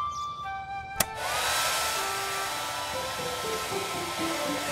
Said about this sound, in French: On allume le sèche-cheveux.